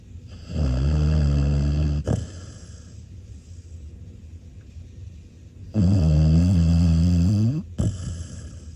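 Two long, deep snores rumble close by, separated by a quiet pause, each breath heavy and throaty.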